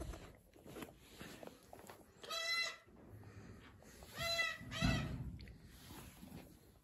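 Young Oğursak goat kid, one of twins, in a farmyard on a rainy day, giving several short wavering bleats spaced a couple of seconds apart, close by, over faint shuffling and handling noise.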